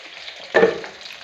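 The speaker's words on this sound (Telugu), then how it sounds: "ఇందులోకి తరిగి పెట్టుకున్న పచ్చిమిరపకాయలు, ఎర్రగడ్డలు వేసేస్తున్నాను" Chopped green chillies and onions dropped into hot oil, a sudden loud burst of sizzling midway through a brief stretch that then settles into a softer steady fry.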